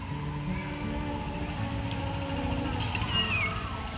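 A pregnant cat gives drawn-out meows and caterwauling cries over a steady murmur of background noise, moderately close.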